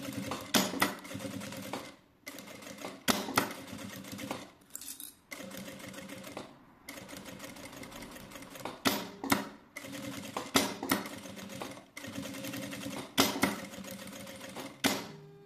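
A sewing machine stitching fabric with plastic, running in repeated quick bursts of rapid mechanical clatter separated by short pauses, close and clear with no talking.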